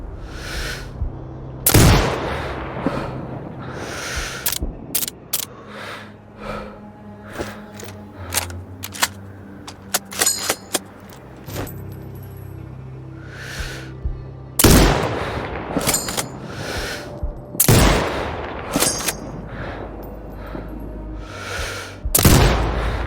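Rifle shots in the video game Sniper Ghost Warrior Contracts 2: sharp, loud reports recur several times over a steady ambient bed, with one shot clearly standing out among lighter clicks, impacts and game effects.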